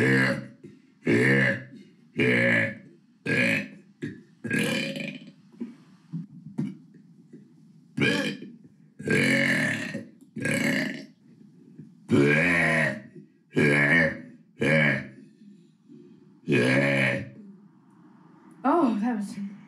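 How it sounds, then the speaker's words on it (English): A person lets out a string of loud, drawn-out burps, about a dozen of them, each separated by short pauses, with some throaty grunting between them. "today we are doing another burp video"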